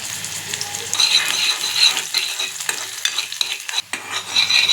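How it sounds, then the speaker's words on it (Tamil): Chopped onion and two dried red chillies crackle in hot oil for a tempering for a chickpea gravy, a loud, steady bright sizzle with a few stirring scrapes, no voices. "ஒரு சின்ன தாளிப்பு ஒன்று கொடுக்க போகிறேன்."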